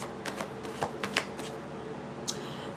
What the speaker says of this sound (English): I'm just still shuffling in the cards